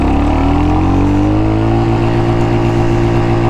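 Royal Enfield Hunter 350 single-cylinder motorcycle accelerating hard in first gear, its engine note rising steadily in pitch, loud and close throughout.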